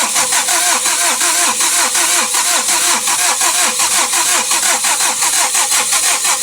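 A Mitsubishi Adventure with a 4D56 diesel engine, diagnosed for low power, starts and runs close by, its loud, steady mid-pitched diesel clatter pulsing rhythmically throughout without pause.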